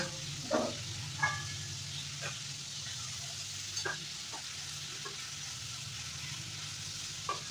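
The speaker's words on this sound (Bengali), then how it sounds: "তো দেখো চিকেন ভাজা হয়ে গেছে।" Steady close sizzling of chicken frying in hot oil, with occasional scrapes and stirs of a spatula in the pan.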